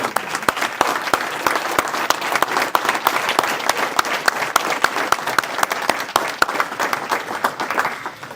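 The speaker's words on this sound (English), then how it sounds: "please stand so we can give them a nice round of applause" Hall of fame audience gives a round of applause for a coach's standing family, dense sustained clapping from a crowd with sharp individual claps standing out, loud and continuous without speech.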